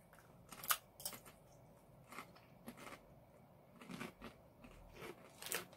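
Crisp, loud crunches of yuca chips, a kettle-style snack from El Salvador, bitten and chewed close to the mic in irregular bursts with no talking.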